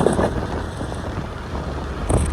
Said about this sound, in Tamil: காத்து நல்லா அடிக்குது.